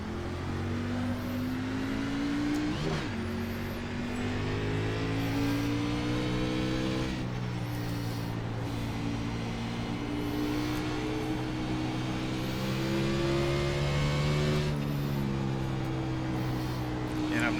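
Simulated NASCAR stock cars roar off the green-flag start of an iRacing night race at Bristol, a dense pack of engines revving and rising in pitch together, loud and continuous for the whole stretch with gear-change dips.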